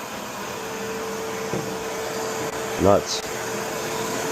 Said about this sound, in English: You can't hear this vacuum cleaner at all, only from the suction.